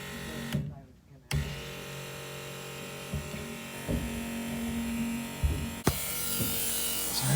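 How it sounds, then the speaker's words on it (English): A homemade electric fuel transfer pump draining the fuel tank of a 7.3 F550 truck runs with a steady close buzzing whine, briefly cut off then resuming, with small knocks and handling noises over it. "So here's that pump, and then I've got that hose in there."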